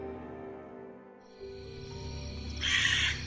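A crow gives a single loud, harsh caw near the end, over a low droning tonal background.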